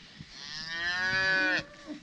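A single loud, drawn-out moo from a Dexter cross cow, mother of a newborn calf, rising and holding for over a second close by before cutting off, with faint outdoor noise around it.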